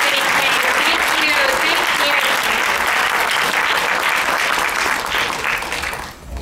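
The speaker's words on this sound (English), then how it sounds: "one more round of applause for Robbie and Ivan and Stephanie Kay" Loud, sustained applause from an evening crowd at a fan event, thick and continuous, then tapering off sharply at the very end.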